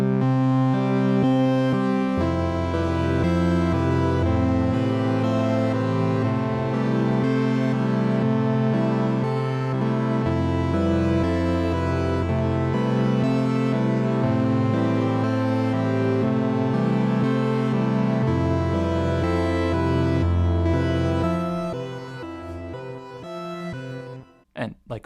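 A Sonicware Texture Lab granular effects processor plays a sequenced pattern of sustained, layered pitched tones that change notes in steps, loud and continuous, ending with a few brief clicks.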